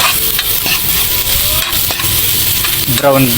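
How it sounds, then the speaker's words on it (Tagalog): Chopped ginger sautéing in a hot pan with garlic for beef pinapaitan gives off a loud, continuous sizzle, broken by intermittent stirring scrapes and a brief louder spatter near the end. "Gisa natin din, sabay natin gisa."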